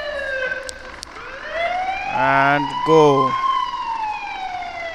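Ambulance siren in the Flying Ambulance Rescue mobile game wails loudly with rising and warbling tones, a voice talking briefly beneath it.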